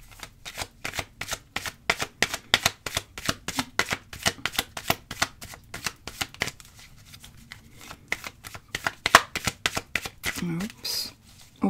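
Playing cards are cut and laid out on a table in quick, crisp flicks and snaps, a long series of sharp slaps close by, with a voice speaking now and then.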